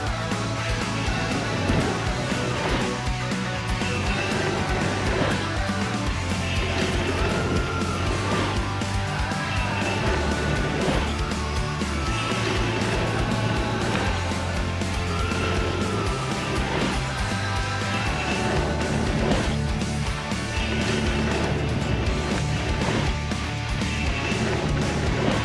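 A dirt bike ripping around backyard jumps, engine revving up and down in repeated bursts with occasional thuds, steady and moderately close for the whole stretch.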